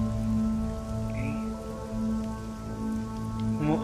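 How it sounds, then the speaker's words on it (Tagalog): Steady rain patters on surfaces nearby in a constant hiss, with a faint tonal hum running underneath throughout. "Umuulan pa."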